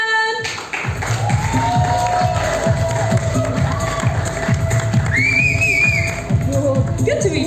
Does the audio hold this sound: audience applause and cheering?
yes